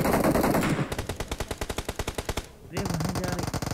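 Automatic gunfire in PUBG around Pochinki as a teammate shoots an enemy: loud, rapid machine-gun bursts, one long steady stream of evenly spaced shots followed by a short pause and another volley close by.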